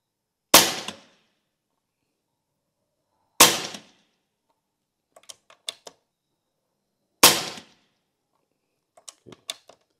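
An air rifle fires 6.35 mm double-head lead pellets outdoors at night: three sharp, loud reports spaced a few seconds apart, each followed by a short cluster of light ticking impacts from the target.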